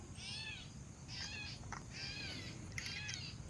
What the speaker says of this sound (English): What is with that bird?